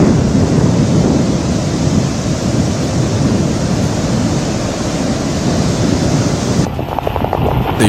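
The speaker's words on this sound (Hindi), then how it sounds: "समुद्र में ऊंची ऊंची लहरें उठ रही हैं।" High ocean waves pound the southern coast during Cyclone Fengal, a loud, continuous roar of surf churned by strong wind buffeting the microphone, with no speech over it.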